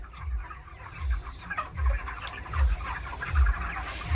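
Chickens on a village poultry farm, a close flock clucking and murmuring steadily with soft repeated low thumps in a regular rhythm, no talk.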